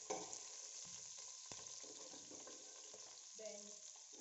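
Chopped onion added to a little hot oil in a pot, already used for frying tomatoes, giving a soft, steady sizzle with faint stirring scrapes, quiet and close.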